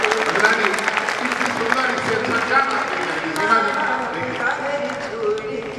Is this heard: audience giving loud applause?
yes